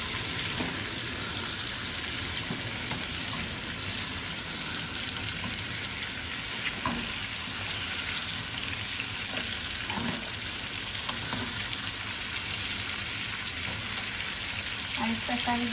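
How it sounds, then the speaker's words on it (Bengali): Chicken pieces fry in a pan, a constant dense sizzle holding steady at moderate level for the whole stretch, with occasional faint knocks and no speech. "মাংসগুলো ভাজা হয়ে গেছে"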